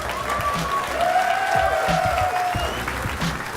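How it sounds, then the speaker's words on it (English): An audience at a live Clash Royale tournament in Helsinki gives a sustained round of applause, thick continuous clapping with a few scattered cheers and a faint tone hanging over the hall. "Guys, one more time, a round of applause."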